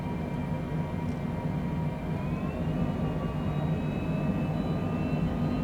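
Engine noise of an airplane on final approach for landing at Abilene airport in Texas in gusty southerly winds, a steady loud droning whir with faint whining tones that drift in pitch, heard from inside the aircraft with no talk.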